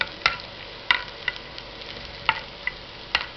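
Cauliflower manchurian is stirred as it fries in a pan, with a soft sizzle running underneath and several distinct scraping clicks of a utensil against the pan at an irregular pace.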